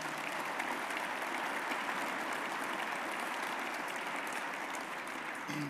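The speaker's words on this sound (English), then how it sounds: "Let's give them another round of applause." Sustained audience applause fills the hall at a New York State budget address, steady dense clapping throughout without a break.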